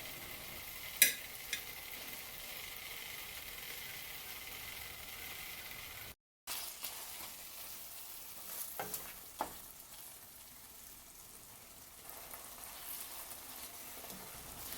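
Eggs stirred into a boiling Tamil egg kuzhambu: a steady, moderately loud bubbling sizzle with occasional scraping knocks from the stirring spoon, continuing throughout with a brief break partway.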